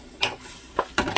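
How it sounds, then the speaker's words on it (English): Hot oil sizzles in a pan while a spoon stirs in minced garlic for saltfish, with short scraping bursts of the spoon against the pan over a steady hiss, no talking. "That sizzle."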